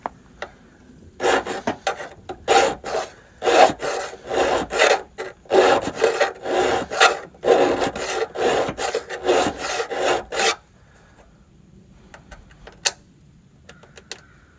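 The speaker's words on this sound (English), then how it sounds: "I'm gonna go get a file and file this down smooth where that bushing sits level" A hand file rasps against a metal door pin bushing on an S10 Blazer door, making a quick series of rhythmic, gritty back-and-forth strokes close up for about ten seconds, then falling quiet apart from a couple of small taps.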